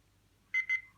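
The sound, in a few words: talking watch beep returning to time setting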